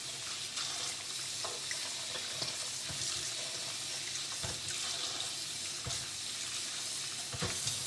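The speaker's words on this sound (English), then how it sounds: "So I'll wash them a couple times just to make sure we got all nice and clean." Potatoes being rinsed under a running kitchen faucet, a steady close hiss of water with occasional knocks and splashes as they are handled in the sink, no voices.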